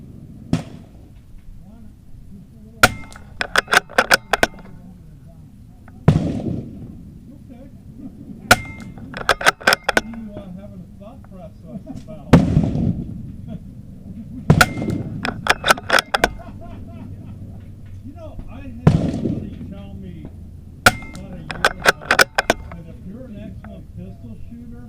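Sharp .22LR rifle shots from a Ruger Precision Rimfire firing SK Rifle Match red box ammunition, about ten evenly spaced cracks with a few quick pairs and clusters, loud and close over steady low outdoor rumble.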